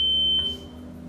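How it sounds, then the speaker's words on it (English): An electronic voting machine control unit gives a single sharp, high-pitched beep while candidates are being set, steady for a moment and then cut off, over a faint low hum. "You will see Set Candidate flashing with a beep sound."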